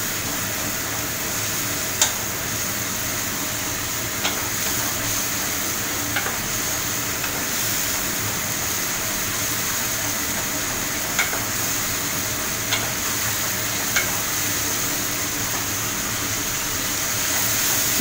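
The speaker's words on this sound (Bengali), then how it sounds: "জল দিয়ে মশলাটাকে ভালো করে একটু কষিয়ে নেব" A spice paste loosened with water fries in a pan, giving a steady, fairly loud sizzle and bubbling throughout. Occasional light clicks of a spatula come through, and nobody speaks.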